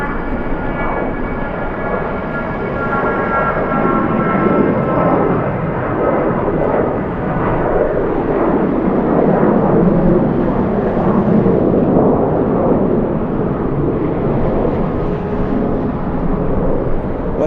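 An airliner departing LAX on a short flight to Palm Springs, a loud continuous jet roar that holds steady throughout, mixed with strong wind noise and no voices.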